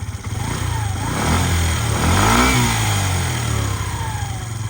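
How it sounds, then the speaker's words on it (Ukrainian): Suzuki Lets 4 Basket scooter running after a push-button start, its small engine droning close and steady with a couple of throttle blips rising and falling in pitch. "заведемо ми його потім з кнопочки, послухаємо"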